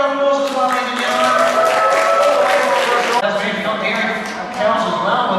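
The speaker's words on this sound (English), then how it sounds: "give a round of applause as well, ladies and gentlemen." An audience applauds at a sheep farm show in New Zealand, a sustained patter of many hands clapping mixed with someone talking over it.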